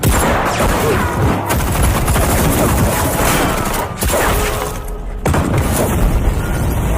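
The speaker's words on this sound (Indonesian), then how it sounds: "Selama baku tembak berlangsung" A film gunfight between a sheriff's team and a mafia gang: loud, dense bursts of gunfire and booms fill the scene continuously, with a brief lull before the shooting resumes.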